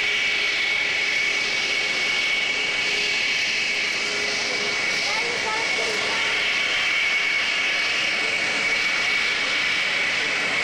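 Concorde supersonic jet airliner on the runway, a loud sustained engine roar with a steady high whine holding throughout, continuous and close.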